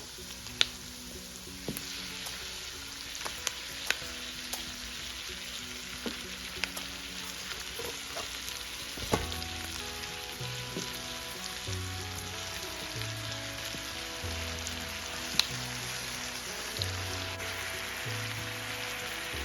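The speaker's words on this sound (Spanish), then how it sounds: "Y ya en este momento le agregamos el pollo" Chicken pieces fry in butter with garlic and onion, producing a continuous crackling sizzle with frequent sharp pops and spatters, and occasional stirring clatters, close and steady with no talking.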